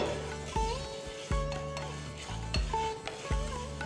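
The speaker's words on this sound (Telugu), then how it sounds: "సో వీటిని జస్ట్ స్లైట్గా డ్రై రోస్ట్ చేసి మళ్ళీ పౌడర్గా గ్రైండ్ చేసుకోవాలి సో మీడియం ఫ్లేమ్లో జస్ట్ ఒక two to three minutes roast చేస్తే చాలు" Moong dal dry roasting in a pan over a medium flame, stirred with a utensil: repeated scraping and clinking strokes against the metal pan at a slow, regular rhythm, close and fairly quiet, with a soft sizzle underneath.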